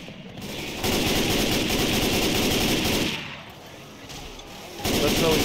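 Rapid automatic gunfire in Left 4 Dead, loud sustained bursts that stop briefly and then resume, with a player talking over the shooting.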